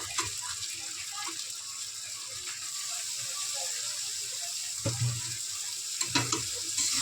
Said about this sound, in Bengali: মোচাগুলো দিয়ে ভালো করে কষিয়ে নেব